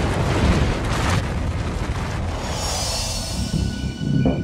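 Explosion sound effect for a gamma ray burst: a loud deep booming blast that rumbles and fades into a hissing, ringing tail with a faint swell at the end.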